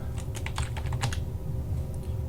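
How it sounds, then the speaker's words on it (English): Keys being typed on a computer keyboard while entering text into a translation tool, a quick run of clustered clicks in the first half, then a pause and a couple of faint taps, over steady low background hum. "So I'll type in here"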